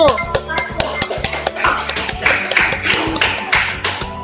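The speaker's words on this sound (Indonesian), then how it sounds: "Tepuk tangan untuk kelompok 1." Students in a classroom clap for a student group, a crisp rhythmic pattern of sharp, close claps and taps repeating in quick bursts, with faint tonal background sound underneath.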